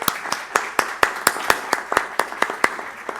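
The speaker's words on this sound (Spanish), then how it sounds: "yo creo que podemos darle un nuevo aplauso" Audience applause after a law lecture: a dozen or so distinct, evenly spaced hand claps, fairly sparse and moderately loud in a quiet room, without voices.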